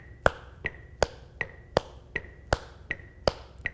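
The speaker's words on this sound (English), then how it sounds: "Now I want you to clap in between your foot taps." Claps alternate with foot taps in a steady, even rhythm, about two sharp hits per second, alone and moderately close.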